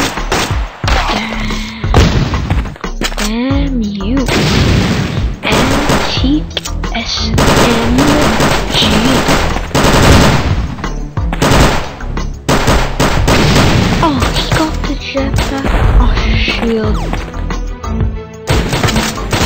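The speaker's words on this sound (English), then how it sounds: "High power rifle." Rapid high-power rifle gunfire from the video game Gun Mayhem, loud dense bursts and repeated shots filling the scene, mixed with game music and a voice talking over the action.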